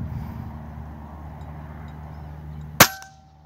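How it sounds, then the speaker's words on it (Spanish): A single sharp gunshot cracks out near the end at a sport shooting range, loud and close, after a stretch of low idling rumble, with a brief ringing tail. "Último disparo."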